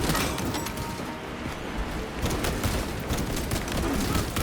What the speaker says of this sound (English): Let's see how many we kill with a couple of grenades